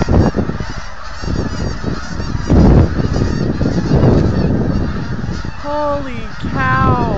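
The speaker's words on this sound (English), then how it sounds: "That was a lot of ducks." A flock of geese honks loudly and repeatedly, several calls overlapping over a rushing background, the honks growing more frequent toward the end.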